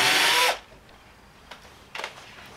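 A power drill spins briefly at high speed, drilling a hole in a Gauge 1 Class 66 model locomotive, in a loud half-second whir that stops abruptly, followed by quiet handling clicks.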